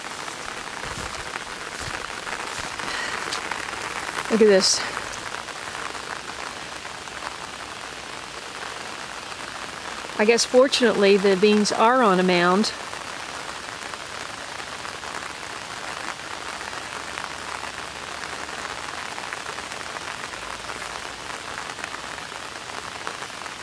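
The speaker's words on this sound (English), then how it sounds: "This is what destroys your garden. Too much rain." Heavy rain pours steadily throughout, a dense hiss of drops on surfaces, with brief spoken remarks breaking in twice.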